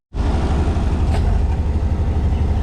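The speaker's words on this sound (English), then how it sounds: "It still sounds like it's missing because of the exhaust." An excavator's diesel engine starts up and runs loud and close after an injector replacement, a dense low rumble with an uneven, lumpy pulse as if missing, with a slight exhaust-related roughness.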